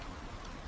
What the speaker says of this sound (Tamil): மழை சத்தம்